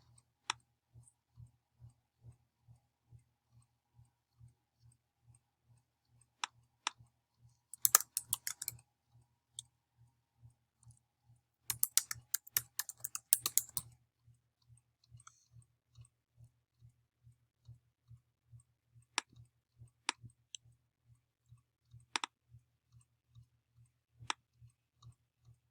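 Quiet computer mouse clicks tick at a steady rhythm, broken by two short bursts of keyboard typing and a few sharper isolated clicks, close and faint.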